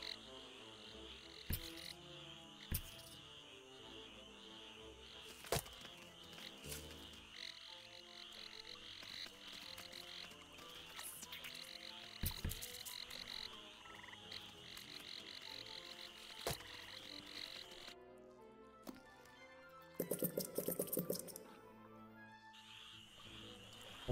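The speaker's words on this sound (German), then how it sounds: "Wo waren es noch ein paar Frösche hier unten?" Frogs croak in the ant strategy game Empires of the Undergrowth, a steady game soundscape with repeated short croaks and a denser burst of calls near the end, no talking.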